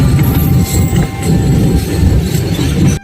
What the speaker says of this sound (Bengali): আমাদের ট্রেন এখন ফারাক্কা ব্রিজের উপর দিয়ে যাচ্ছে।